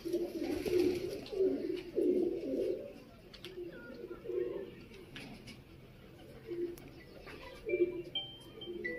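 Low, soft coos of Lakha pigeons repeat in rolling phrases throughout, fairly close, with faint chirps and background noise underneath.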